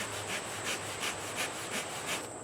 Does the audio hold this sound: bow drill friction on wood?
yes